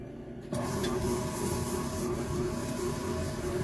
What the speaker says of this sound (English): And we're going to cream this together.